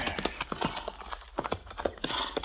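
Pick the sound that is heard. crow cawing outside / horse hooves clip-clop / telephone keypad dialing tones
horse hooves clip-clop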